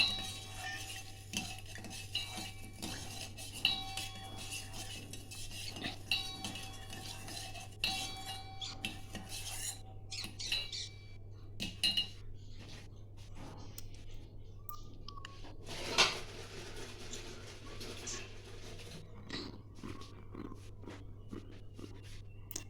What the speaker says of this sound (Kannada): ಈಗ ಏಲಕ್ಕಿ ಹಾಕಿ ಸಕ್ಕರೆ ಹಾಕಿ ಜ್ಯೂಸಿಗೆ ಮಿಕ್ಸ್ ಮಾಡ್ತಾ ಇದ್ದೀನಿ